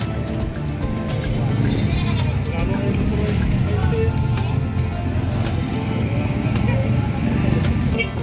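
Goats bleating at the San Carlos City livestock market, several wavering calls rising over a constant murmur of crowd chatter and passing vehicle noise, with voices talking throughout.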